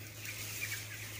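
Sixteen-day-old broiler chickens cluck softly in a poultry house during morning vaccination, a faint scattered murmur of bird calls over a steady low hum, with no voices.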